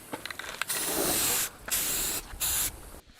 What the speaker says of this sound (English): Spray the edges of your panel with some flat paint that matches your poster color.